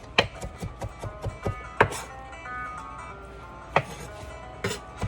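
A knife cleaves a rack of lamb into chops, sharp thwacks landing on a board in an uneven rhythm, a quick run of cuts followed by a few spaced heavy strikes, close and clear over light background music.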